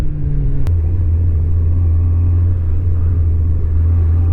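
Kawasaki ZZR 1100 motorcycle with a hydrostatic lock fault, its engine running as the throttle opens, a steady loud low rumble with a slight hesitation at the start, no voices.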